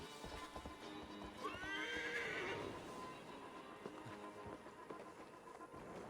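A horse in the video game Assassin's Creed Valhalla neighs loudly in a rising and falling whinny over the steady clip-clop of hooves and a faint background hum.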